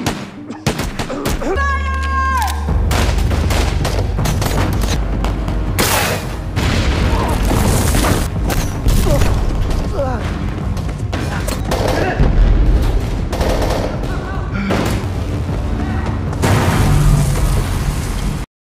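A film shootout scene with loud gunfire and explosions: dense bursts of shots and booming blasts rattle almost nonstop for nearly twenty seconds, close and overpowering.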